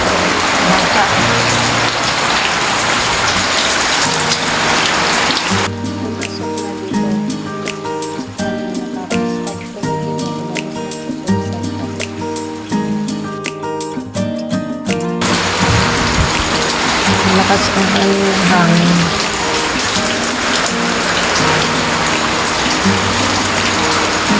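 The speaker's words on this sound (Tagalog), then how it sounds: "lumalakas at walang tigil ang buhos ng ulan" Heavy typhoon rain pours in a dense steady roar, broken in the middle by a stretch of music before the downpour returns.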